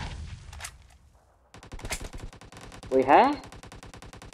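Rapid gunfire from the PUBG Mobile battle royale game cracks in repeated bursts, with a dense automatic volley swelling loudest near the end, while a player's voice speaks briefly over the shooting.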